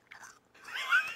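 Two crunchy bites into a carrot-like raw vegetable, a short crisp snap followed by a longer wet crunching chew, close and fairly quiet against silence.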